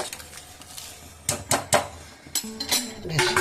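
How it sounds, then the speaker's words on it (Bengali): A metal lid is set onto a cooking pot of simmering spiced rice, giving a few sharp clanks and a scraping clatter close by, with no voices. "এবার আমি এখানে আবার ঢাকা দিয়ে দিচ্ছি।"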